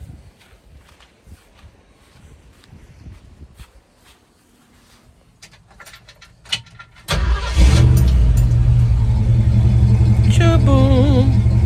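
A car engine fitted with a Holley carburetor is cranked after some quiet shop clatter, catches abruptly and settles into a loud, steady idle up close, with a few blips of the throttle near the end.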